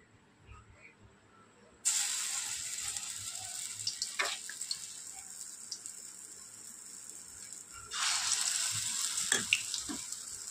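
Potol bora fritters dropped into hot oil, a sudden loud hiss and sizzle that settles into steady crackling, then swells again as more are added, close by with no talk.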